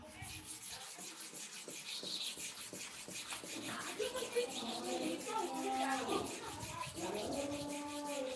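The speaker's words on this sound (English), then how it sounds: "I use this upper part of the stone to sharpen this upper part of the blade" Knife blade sharpened on a sharpening stone, steady rhythmic rasping strokes of steel against stone, close and moderately loud, with a person speaking over the later part.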